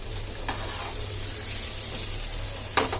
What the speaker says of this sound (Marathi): थोडासा गॅस फास्ट केला. आपली जी मच्छी थोडीशी शिजू दे.